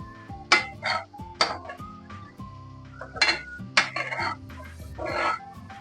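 A utensil stirring egg curry in a pan produces repeated bright metallic scrapes and clinks in irregular strokes, close and fairly clear, over a steady low hum, with no one speaking.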